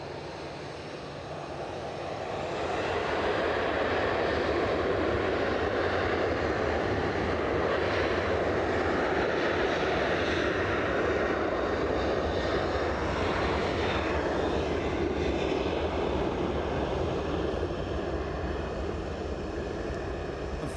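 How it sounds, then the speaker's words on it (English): A KLM airliner inbound from Amsterdam on final approach to Edinburgh Airport: a jet roar swells in over the first few seconds, then holds as a broad, steady rumble for the rest, with no voices. "Somebody's on finals, so can't hang around. KLM inbound from Amsterdam."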